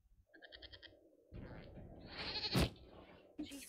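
A goat in Dragon Age Inquisition, heard in a scene where a man attacks a building with a goat: a few wavering bleats, followed by noisy game action and a sharp impact.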